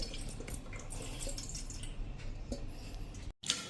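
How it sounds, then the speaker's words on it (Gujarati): Water drips and trickles from chopped mango pieces set in a perforated colander, a steady patter of close, soft droplets that stops abruptly near the end. "એને આપણે એક કાણાવાળા વાસણમાં રાખીને આ રીતે નિતારી લેશું, એટલે બધું પાણી નીચે નીતરી જશે"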